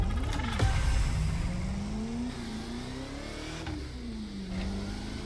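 A Bugatti revving in the racing video game The Crew Motorfest: a continuous loud engine drone that rises and falls in pitch with throttle changes, steady with no speech.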